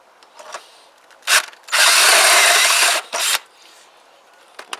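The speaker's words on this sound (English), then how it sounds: "so I'm hoping I can do it with this step drill." A step drill bores a hole out to M8 size for a bolt on a Keeway RKV125 motorcycle accessory: a couple of short bursts, then a loud sustained grinding cut of about a second, followed by another brief burst, close up.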